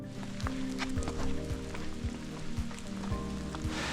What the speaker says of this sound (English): It has not stopped raining.